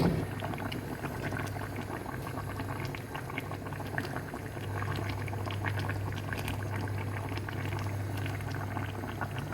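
Broccoli boiling in a pot, cooked alongside potatoes, carrots and a rohu fish head, gives a steady, close bubbling and rolling simmer that carries on unbroken, with no talking.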